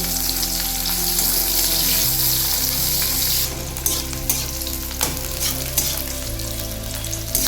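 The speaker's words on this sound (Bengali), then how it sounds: "তাপটা হাই রেখে পেঁয়াজটা ভেজে নেব" Sliced onion fries hard in hot oil on high heat, a loud, continuous sizzle with occasional stirring scrapes, close up and steady throughout, under a faint low background hum.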